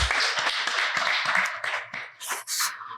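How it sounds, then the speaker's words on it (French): Audience clapping at a tech careers event launching a guide for women in digital professions, a dense burst of hand claps that thins out and fades toward the end, with no talk over it. "Veuillez l'applaudir, s'il vous plaît."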